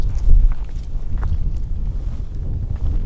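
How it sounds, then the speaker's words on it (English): Strong wind buffeting a desert campsite, a steady low roar with gusty rumbles close to the microphone, no other sounds standing out above it. "the wind is not behaving"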